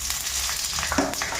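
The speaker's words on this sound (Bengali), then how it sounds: "আর এখন এদিকে ফোড়ন দিয়ে দিই 5 ফোড়ন" Panch phoron spices hit hot ghee with a brief, loud, close sizzle and a few sharp crackles, with no talk over it.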